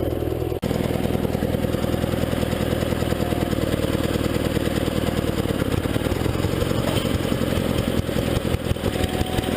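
A 1975 Sears Suburban ST16 lawn tractor engine idling close by, a loud, steady low mechanical putter that runs evenly throughout after a brief dropout at the start, no voices.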